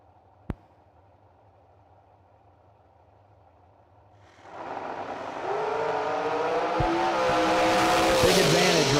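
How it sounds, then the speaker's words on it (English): Heads-up drag race cars at a racetrack launch with a sudden loud roar after about four seconds of quiet, engines building and staying loud to the end, with a sharp click early on. "Right side, Paul Rich, 456 at Isle, heads up drag race again."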